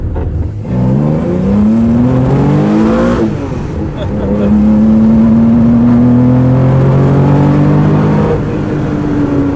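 Porsche 911 RSR recreation race car engine accelerating loudly from inside the cabin, rising through gears with a climbing whine, a brief shift dip, then a sustained high-revving drone close to the microphone.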